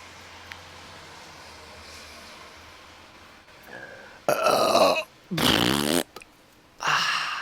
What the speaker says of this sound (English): I love burping on live broadcasts.